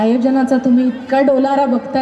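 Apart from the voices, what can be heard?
No everyday noise stands out behind the speech.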